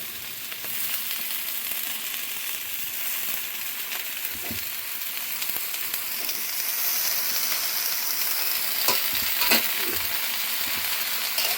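Donda kolosh greens frying in oil over fried onions, a steady broadband sizzle that continues for the whole stretch, with a few sharp stirring clatters and scrapes of the utensil against the pan.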